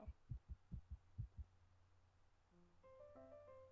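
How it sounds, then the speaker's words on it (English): A heartbeat sound effect in a video game: about seven deep, evenly spaced thumps pulse at the start, then give way to a low hum with a few soft tonal chimes. "that was Isabel's, I think, heartbeat"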